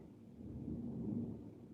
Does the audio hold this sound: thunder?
yes